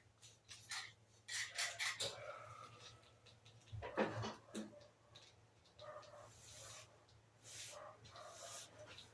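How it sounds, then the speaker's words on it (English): Inside a house, a dog barks in rapid, excited bursts at a distance, with whimpers and yelps between volleys, fairly faint against the room. "dog's going crazy, oh boy. Someone must be walking past the house."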